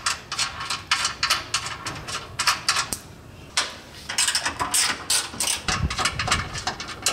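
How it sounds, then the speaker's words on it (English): A ratchet with a 16mm socket backs out the last rear bumper bolts from the crossmember of a Jeep Wrangler JL, giving rapid metallic clicking in close, repeated bursts with short pauses between strokes. "we're going to go ahead and remove the final 2 bolts that are attaching the bumper to the crossmember here. So again, with the 16mm socket"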